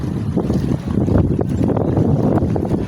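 Steady wind gusting and buffeting outdoors at a terminal in Guiuan, Eastern Samar, a continuous rumbling rush with no talking.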